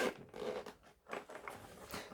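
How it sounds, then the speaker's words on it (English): A zipper being pulled open on a jump starter's carrying bag, a series of close, scratchy rasping bursts with brief pauses between pulls, no talking. "Let's unzip this."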